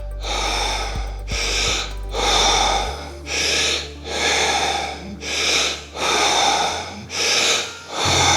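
Repeated heavy breaths, strong rhythmic inhales and exhales about once a second, close and loud with no talking, as someone forces out air before holding their breath.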